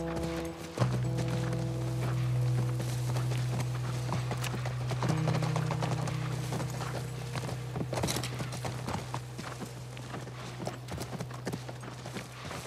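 Horse hooves clip-clop at a steady walking pace over a sustained tonal drone, a synthetic soundscape from the video game The Last of Us Part I.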